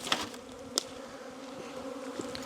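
Honeybees buzz in a steady, close drone while hive frames are out during an inspection, with a couple of sharp knocks or clicks near the start and in the middle.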